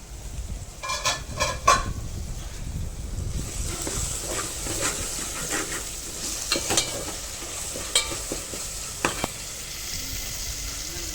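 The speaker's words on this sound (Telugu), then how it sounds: "టొమాటో పీసెస్ని కూడా యాడ్ చేసుకొని బాగా షాలో ఫ్రై చేసుకుందాం" Tomato pieces and baby potatoes shallow fry in a pan with a steady close sizzle. A few clattering stirs come early, and scattered spoon clinks sound over the continuous frying hiss.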